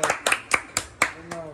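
A few people clap by hand at a farewell ceremony in a college setting, several sharp separate bursts in an uneven rhythm, close and moderately loud, with brief voices between the claps.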